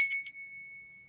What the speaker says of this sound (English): I always like to ring a bell